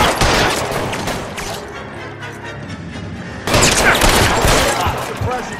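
Suppressing gunfire in LA Noire, loud rapid volleys of shots up front, easing into a quieter stretch, then another heavy burst of fire to the end.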